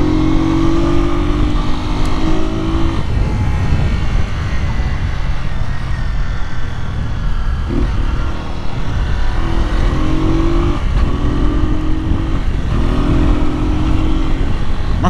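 A 2008 Fan 125 motorcycle engine revving hard and close, loud buzzing throttle blips in repeated bursts with short pauses between them, over constant engine noise.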